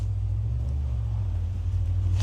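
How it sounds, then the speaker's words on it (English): A truck passing close to a campsite at night, a steady loud low engine rumble with road noise throughout, swelling slightly toward the end. "It's the same truck."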